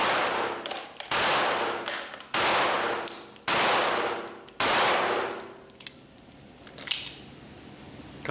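FN 509 Edge pistol fired at a shooting range: five sharp, loud shots spaced about a second apart, each ringing briefly with metallic echo, followed by quieter clinks and handling noise.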